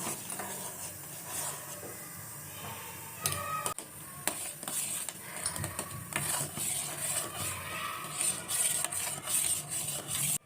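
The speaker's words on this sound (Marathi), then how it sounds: "आणि ह्याला ढवळत राहायचंय की गुठळ्या होऊ नये" Milk mixed with custard powder is stirred in a pot as it heats, with repeated scraping and clinking of a spoon against the metal and a steady low bubbling hiss underneath, close and moderately loud.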